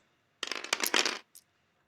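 Plastic dice tumbling across a tabletop in a war game, a dense rattling burst of clicks lasting under a second, close and clear, followed by one brief final clack as a die settles.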